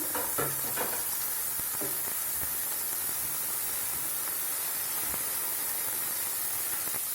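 Tomatoes and garlic sizzle steadily in a frying pan, a constant hissing crackle with a few scrapes and knocks of stirring near the start and no voices.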